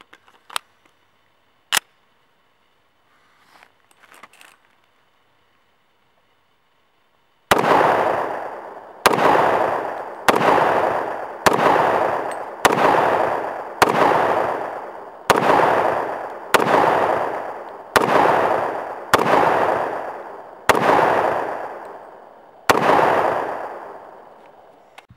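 A Jericho .40 S&W pistol (Baby Desert Eagle II) is fired outdoors, about ten loud sharp shots at a steady pace of roughly one every second or two, each ringing out briefly, after a few handling clicks.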